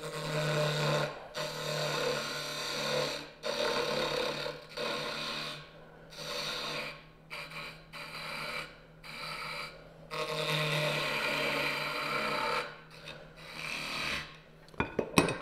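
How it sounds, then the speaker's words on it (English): A wood lathe turns a small bead on a mini birdhouse ornament: a close, raspy scraping of tool on spinning wood, coming in repeated passes separated by short breaks. "I'll go ahead and turn a little bead on this also."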